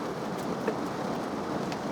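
Steady rain falls with a soft, even hiss throughout, fairly faint and unbroken, with no voices over it.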